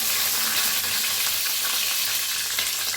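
Asafoetida, peanuts, dried chillies and curry leaves sizzle steadily in hot oil, a close, even crackling hiss throughout with no voice.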